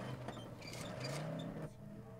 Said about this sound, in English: Rickety ass car.